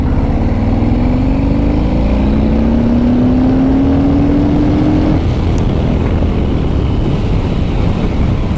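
Harley-Davidson Street Bob motorcycle pulling hard in third gear, engine note rising steadily with heavy wind rush, then settling into a sustained loud roar, no voices.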